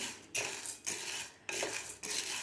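Dry lentils being stirred and roasted in a pan over medium heat for bhajani chakli flour, heard as repeated broad scraping sweeps of the spoon with grains rattling, about four strokes with short pauses between, close and fairly loud, no talking.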